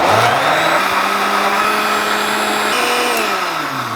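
Close, loud blender motor running continuously with a droning whine while mixing a shake of thick milk, sugar and ice cream, its pitch sagging slightly toward the end.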